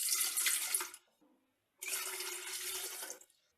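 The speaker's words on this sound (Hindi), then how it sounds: "केटल में सूप बनाने के लिए सबसे पहले इसमें डालें 2 गिलास पानी।" Water pours in two steady bursts into an electric kettle for vegetable soup, each about a second or more, with a short gap between, close and fairly loud with no talking.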